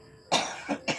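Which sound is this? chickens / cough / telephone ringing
cough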